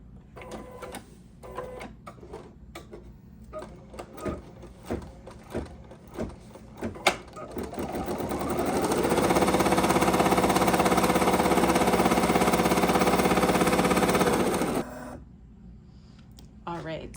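An embroidery machine stitching a long piece on an embroidery sampler block runs as a steady, loud mechanical whir for about six seconds after a stretch of clicks, handling taps and talk, then stops.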